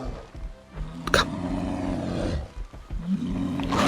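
A bear in a video game lets out a deep, rumbling roar and growl, loud and close, swelling and fading in repeated bursts with a few sharp thuds between.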